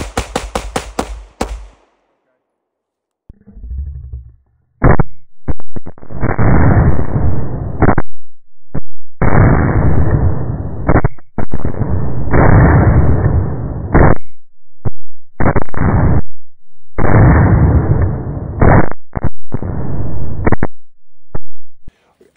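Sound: gunshots fired in shooting drill

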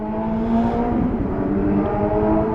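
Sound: passing BMW or R6 motorbike revving

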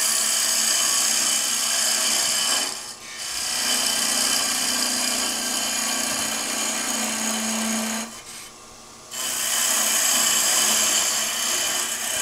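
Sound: parting off a wooden finial on a wood lathe

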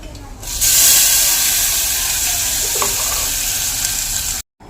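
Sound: tomatoes added to hot tempering, sizzling

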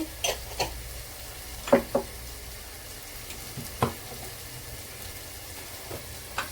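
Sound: frying ginger garlic paste with turmeric in a pan

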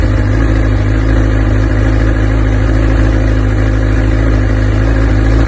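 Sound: motorcycle engine idling

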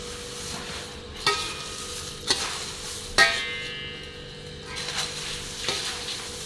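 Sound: poha chivda being stirred in a pan

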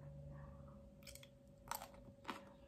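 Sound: crunchy chewing of spicy green mango salad with fermented fish

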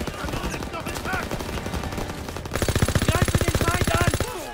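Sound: machine gun fire in Call of Duty WWII video game

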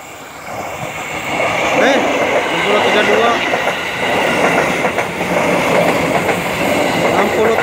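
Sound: KRL commuter electric train series TM 6032 running on rails

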